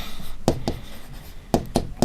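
A pen scratches on paper while writing out geometry measurements, with a few short, close strokes in two quick bursts separated by a pause.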